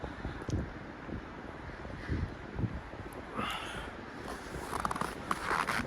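Wind buffets and rumbles across the microphone outdoors in extreme cold of about minus 51 degrees, gusting unevenly with rustling and crackling handling noise throughout.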